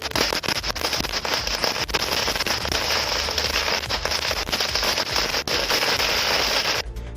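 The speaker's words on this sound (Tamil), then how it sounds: "மின்வாரிய அலுவலகத்தில் ஊழியர்கள் பட்டாசு வெடித்து கொண்டாடினர்" Electricity board employees set off a long string of firecrackers at their office in celebration, a dense, loud, continuous crackle of rapid bursts that runs for several seconds before cutting off.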